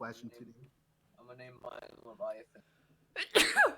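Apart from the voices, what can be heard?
sneeze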